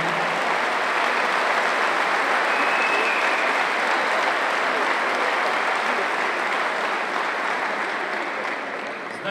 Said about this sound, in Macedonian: Ова заслужува по-голем аплауз